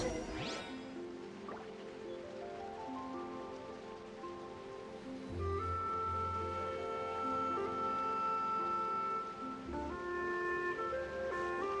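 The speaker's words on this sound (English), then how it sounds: "Rain?" Rain falls steadily throughout in the game Genshin Impact, a soft continuous patter under a layer of sustained musical tones that swell louder about halfway through.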